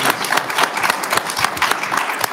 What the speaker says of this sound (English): I'd just like to give Mr. Strong a sincere round of applause for his last 2 years